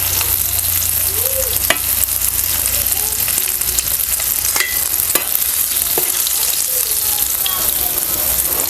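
Rava-coated fish deep-fries in oil with a steady, loud, dense sizzle and bubbling throughout, plus a few sharp crackles and pops.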